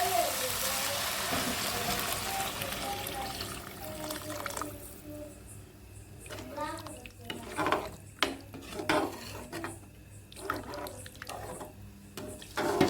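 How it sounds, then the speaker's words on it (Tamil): Water splashes and trickles into a pot of vegetable biryani for several seconds, with stirring and clinking of kitchenware, no talking. "தண்ணி ஊற்றிக்கலாம்"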